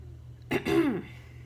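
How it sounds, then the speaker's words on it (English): A man clears his throat once during a Bible teaching, a short rough burst that stands alone against a quiet room with a low hum. "Sorry, I'm having trouble clearing my throat."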